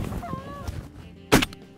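A banded goose gives a few honking calls outdoors, followed by a single sharp gunshot from a hunter nearby.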